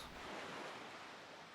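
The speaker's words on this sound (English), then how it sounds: "listen to the sound of the waves." Ocean waves in The Legend of Zelda: The Wind Waker HD wash steadily around a sailing boat at sea, a continuous broadband surf rush with no speech over it.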